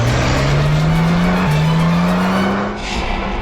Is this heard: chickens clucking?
no